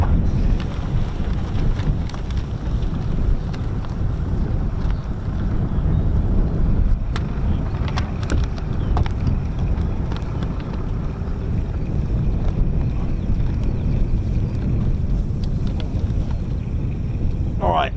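Strong gusts buffet the microphone at an RAF airfield, a continuous heavy low rumble of wind noise that stays loud throughout with occasional sharper crackles.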